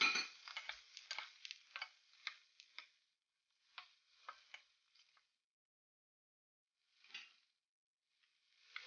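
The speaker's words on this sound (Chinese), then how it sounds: "把虾仁倒进锅里炒" Shrimp stir-fry in a wok with garlic, giving faint, close bursts of crackling sizzle and light scraping that come in short clusters separated by quiet gaps.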